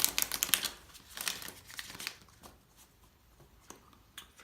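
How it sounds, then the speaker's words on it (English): Tarot cards being shuffled and drawn for a weekly reading, quick crisp riffling bursts at first, then sparser soft slides and taps of cards being pulled, close and fairly quiet. "I'm going to go ahead and pull a couple of cards just for the week"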